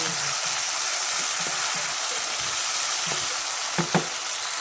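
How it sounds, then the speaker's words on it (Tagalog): Bagoong (shrimp paste) frying in a pan: a steady, loud hiss of sizzling oil fills the clip, with a few soft scraping stirs and a couple of sharper clinks near the end. "lutuin muna natin ang bagoong"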